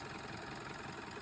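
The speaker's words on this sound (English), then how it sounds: "The engine is running a lot smoother, as you can hear." A Mitsubishi L200 engine runs at a steady, even idle, very faint and continuous, with no voices.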